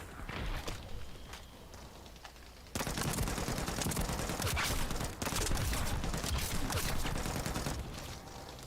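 Sustained LMG machine gun fire from The First Descendant co-op shooter game, dense rapid bursts running almost continuously, louder after a quieter opening stretch, with no talk over it.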